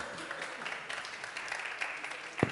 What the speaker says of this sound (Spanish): un aplauso para la hermana que lo hizo muy bien